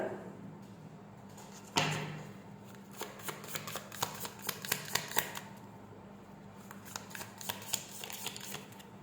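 Tarot cards shuffled and drawn by hand, a soft riffle and slide followed by a run of quick crisp flicks and taps, fairly quiet and close, with no talking.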